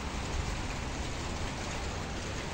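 Steady rain falls outdoors in Kuwait at the start of winter, a dense, even hiss of drops on surfaces that holds at a constant level throughout with no voices.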